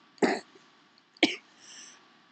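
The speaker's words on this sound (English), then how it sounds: "I'm still coughing" Two separate coughs, close and fairly loud, about a second apart, followed by a faint breathy exhale.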